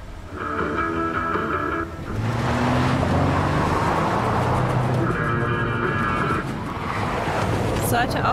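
A car engine in Life is Strange: Before the Storm revs loudly and roars continuously, rising and falling, with a voice talking over it at times.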